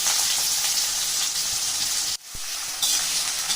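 A loud, bright sizzle of garlic and onions frying in a hot pan, briefly interrupted by a stir, then crackling on steadily.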